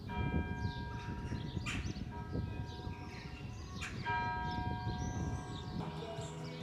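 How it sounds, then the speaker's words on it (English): An old church bell tolls at a distance, with several faint strikes ringing over outdoor street ambience and background noise. "the bell on that church's been ringing for a long time"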